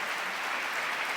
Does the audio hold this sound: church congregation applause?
yes